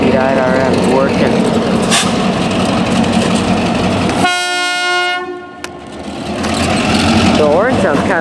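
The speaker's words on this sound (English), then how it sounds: "Hear that GP9RM working." Canadian National GP9RM diesel locomotive working hard on a long freight train, its engine rumbling under loud train noise with a horn-like tonal blast midway, close by, with people talking in the background.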